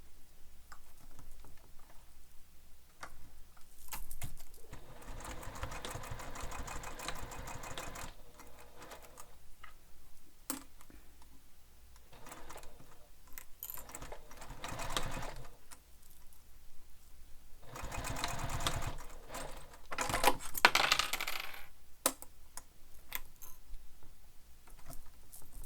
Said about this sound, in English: So now we're going to sew along the raw edges.